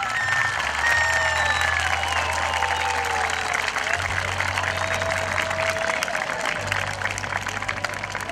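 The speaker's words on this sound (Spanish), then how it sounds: "Aplausos para la señorita Génesis Salto." An audience at a local beauty pageant in Salango parish claps steadily and fills the space with dense applause, with a faint crowd murmur underneath.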